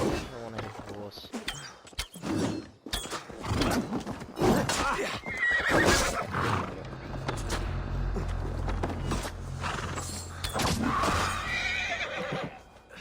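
A horse in the Siege of Paris game neighs and whinnies loudly amid clip-clopping hooves and clashing battle noise, with voices talking over it.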